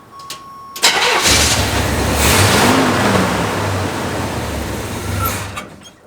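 An old Chevy Suburban that sat for five years cranks and fires, catching into a loud, rough, steady engine run that holds for several seconds before easing off, heard up close.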